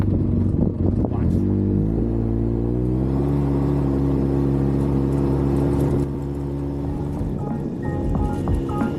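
An off-road vehicle on the Wheeler Pass trail system drives down a forest trail, its engine a steady close drone that rises in pitch early on and then holds, with a slight drop partway through.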